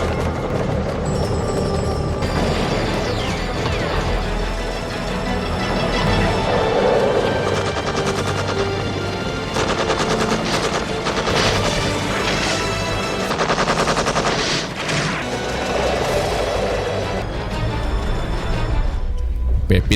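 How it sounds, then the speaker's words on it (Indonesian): Gunfire from an enemy sniper in an old action film, heard as sharp shots within a dense, continuous film soundtrack of music and effects that stays loud throughout. "ia tertembak oleh sniper musuh."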